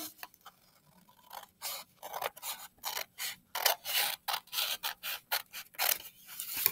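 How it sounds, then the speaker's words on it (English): Scissors cut paper along a fold line while a lapbook is assembled, giving close, quiet, rhythmic snips and crunchy rasps in a steady run of strokes after a few soft rustles, with no talking. "So I'm just going to cut along that line."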